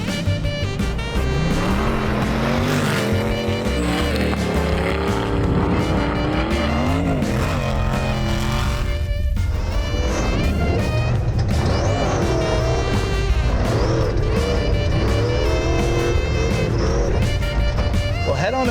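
The Megalodon off-road race vehicle drives with a loud, continuous engine roar that rises and falls as it revs and shifts, with tyres scrabbling and a voice speaking over the engine noise throughout.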